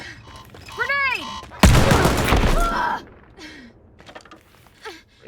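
A grenade goes off in the shooter game Wolfenstein: Youngblood, a loud broadband blast lasting over a second, ringing over gunfire, with gasps and vocal exertion heard before and after.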